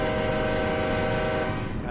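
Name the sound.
train horn whistle in Run 8 train simulator game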